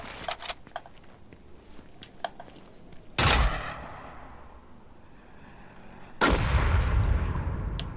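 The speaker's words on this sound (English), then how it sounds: "The grenade launcher is the most annoying weapon to ever exist." Grenade launcher blasts in Fortnite Battle Royale: two loud, booming explosions about three seconds apart, each with a long rumbling tail, following a run of faint sharp clicks and pops.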